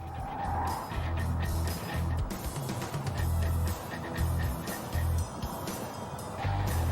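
A fleeing getaway car speeds through town during a police pursuit, its engine roaring loud and close with repeated tire squeals and skids as it swerves and brakes in bursts.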